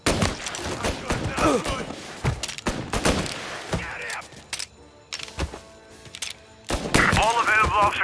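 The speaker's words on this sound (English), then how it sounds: "Reports of gunshots." Bursts of gunfire from a shootout in the video game Mafia Definitive Edition, sharp shots and rapid volleys loud and close, mixed with shouting voices and thuds, briefly quieter midway before heavy firing resumes.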